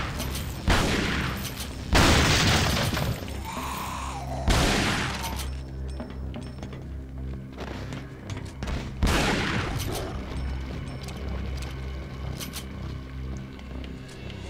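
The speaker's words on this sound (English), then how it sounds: "so we're just gonna shotgun everyone" Loud, booming shotgun blasts in the video game Resident Evil 4, about four heavy shots spaced a few seconds apart over a droning background, with faint game voices between.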